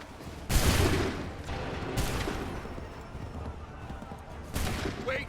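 A musket volley in the Assassin's Creed 3 video game: three rolling fusillades of massed gunfire crack out about every two seconds over a steady noisy battlefield background.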